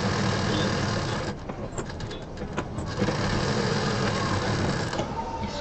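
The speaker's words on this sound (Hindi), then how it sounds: "अब ये जो हमने लाइन खींची है, इसके किनारे किनारे हमें मशीन चलानी होगी।" A sewing machine runs steadily while stitching along a drawn line on a patchwork piece, a loud, continuous mechanical whir close by with slight dips in pace.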